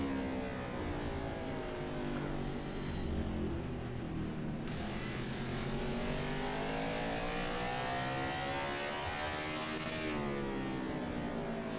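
A NASCAR race car engine in NASCAR 21: Ignition roars at high revs around Martinsville, a loud continuous drone whose pitch sweeps down and back up through the corners, with no talk over it.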